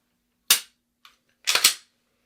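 Two sharp gunshots ring out at a shooting range during defensive shooting practice, about a second apart. Each is loud and close with a quick decay, and a faint click falls between them.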